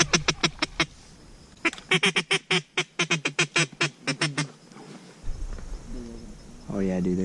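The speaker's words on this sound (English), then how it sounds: "That's a wood duck." Ducks, including a wood duck, call during an Arkansas teal hunt: a rapid run of loud, evenly spaced quacking notes in two bursts, followed by someone talking nearby.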